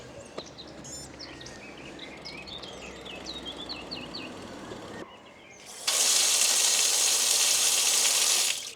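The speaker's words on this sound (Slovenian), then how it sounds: "Jaz sem do tukaj spraznil en bidon, tako da bom tega napolnil." Water from a public fountain fills a bike bottle near the bridge at Most na Soči, a loud steady rushing stream starting partway through, after a stretch of birdsong and insects outdoors.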